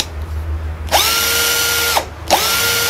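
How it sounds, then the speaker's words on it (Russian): A cordless screwdriver bought from AliExpress whines at high drilling speed, about 1400 rpm, in two loud steady bursts with a sharp spin-up at each start and a short pause between, no talk. "Шуруповерт имеет две скорости, то есть сверление."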